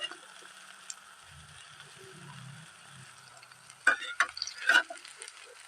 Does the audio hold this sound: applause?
no